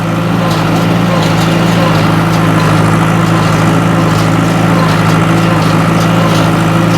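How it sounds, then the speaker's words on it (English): A tractor engine runs steadily while pulling a hay baler through thin hay, a loud, constant low drone with a steady mechanical hum and no breaks. "We'll just keep the tractor going."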